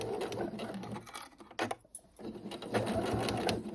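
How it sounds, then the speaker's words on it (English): Domestic sewing machine stitching through four layers of tote bag fabric, a close, rapid mechanical whir in two bursts separated by a brief pause, with no talking. "we're stitching through all 4 layers"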